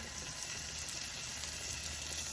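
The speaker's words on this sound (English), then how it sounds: "I have a sizzling hot pan here and scallops that I have patted dry." A steady, loud sizzle of patted-dry scallops frying in a hot pan, continuous and close with no speech.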